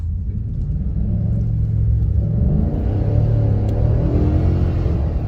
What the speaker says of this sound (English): I'm just going to touch the throttle.